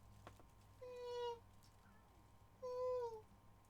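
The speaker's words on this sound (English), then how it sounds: "white cat he's busy talking to me" A white cat meows twice, two clear drawn-out calls about a second and a half apart, close by and fairly loud over a faint background hum.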